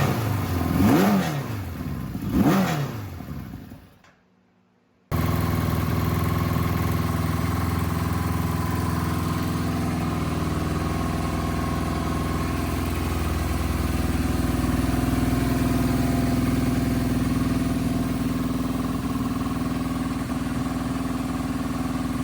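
A 1985 Suzuki GS700ES motorcycle engine revs twice in short bursts, falls briefly silent, then settles into a steady close idle that runs on for a long stretch.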